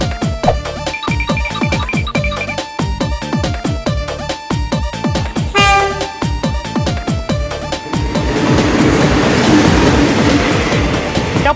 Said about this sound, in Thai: โอเครถไฟมาแล้ว